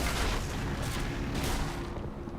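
Mortar rounds land in the Men of War strategy game, a dense rumbling barrage of booms and crackling impacts that stays loud and continuous, swelling in bursts.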